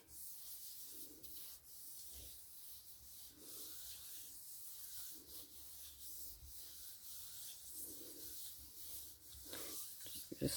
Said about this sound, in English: Just a slight rub over.